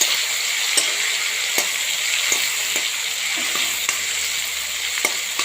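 Garlic cloves and chopped tomato frying in hot oil as they are stirred, a steady close sizzle with occasional scrape ticks of the spoon against the pan.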